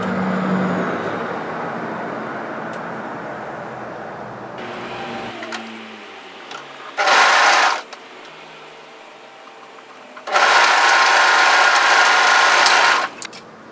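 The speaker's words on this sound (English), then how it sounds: "just come across and sew the other shoulder seam" A sewing machine stitches a sweatshirt shoulder seam, with a long steady run first that fades, then two loud close bursts of rapid stitching with quiet pauses between.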